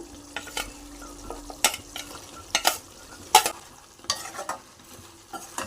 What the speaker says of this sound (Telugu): ఇప్పుడు ఇందులో కోసి పెట్టుకున్న బెండకాయలని వేసుకుందాం